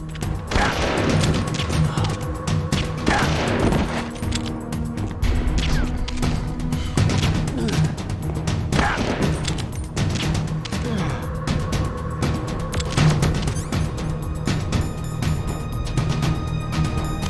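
Gunfire rattles through a Metal Gear Solid: The Twin Snakes game scene, with repeated bursts, crashes and impacts layered over game music and effects, loud and sustained throughout.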